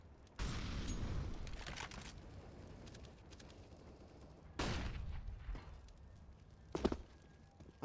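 Gunfire in a Counter-Strike esports match, with a few sharp bursts spread across the clip and a dull boom near the start, mid-distance with ambient game noise between the shots.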